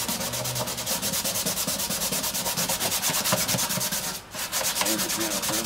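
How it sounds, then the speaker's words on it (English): A handmade guitar body is scraped and sanded in a steady, rapid back-and-forth rubbing rhythm, close and continuous with one brief pause near the end. "When I sand this and scrape it, get everything right"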